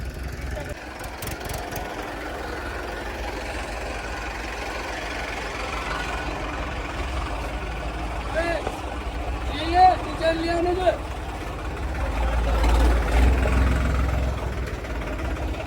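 New Holland and Mahindra Arjun tractors run their engines side by side, making a steady low diesel rumble with knocking. Voices talk over it, and the engines swell louder near the end.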